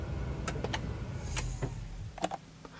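A Chevy Volt electric car shutting off inside the cabin, giving a few short soft swoosh and chime-like tones over a low steady interior hum, with no talking.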